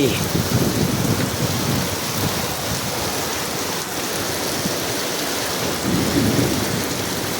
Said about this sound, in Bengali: কি সুন্দর বৃষ্টি